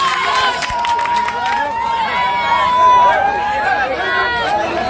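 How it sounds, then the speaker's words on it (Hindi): A crowd at a municipal speech event cheers and chatters loudly with scattered clapping, a lively hubbub of many voices throughout. "जोरदार तालियों से स्वागत कीजिए"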